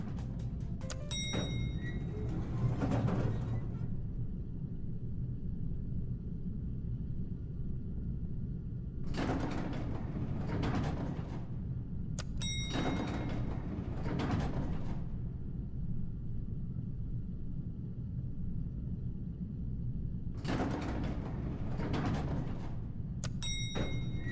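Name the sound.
randomized door sound effects in a video game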